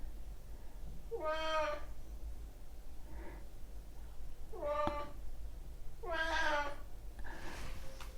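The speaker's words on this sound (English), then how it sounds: "Oh, that's my cat" Pet cat meowing nearby in a quiet room, three distinct drawn-out meows with a softer short chirp between them, each clear and separate.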